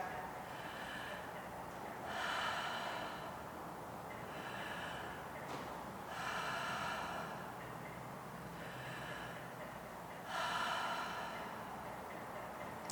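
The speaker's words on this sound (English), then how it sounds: "We're going to breathe in through the mouth and out through the mouth." Deep, forceful breaths drawn in and pushed out through the mouth during a breathing exercise, close and airy, repeating in a steady rhythm of long rushing inhales and exhales.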